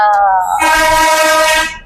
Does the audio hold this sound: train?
yes